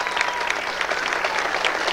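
A crowd applauds continuously for a local neighborhood representative at a pageant queen presentation, dense steady clapping close by with no pauses.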